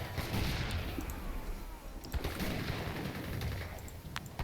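Gatling guns firing in an Age of Empires 3 battle, a dense, rattling barrage of rapid shots with booming impacts, loud and continuous across the whole span.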